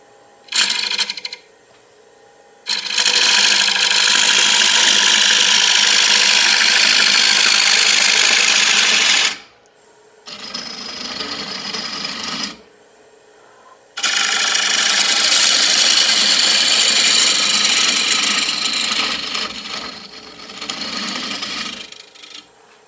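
A wood lathe turns a roughed out bowl blank for final shaping, loud and close, with long bursts of cutting noise over a motor hum, separated by short quiet pauses.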